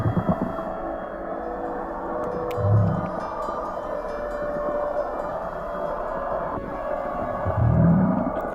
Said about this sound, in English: This is the minke whale sound.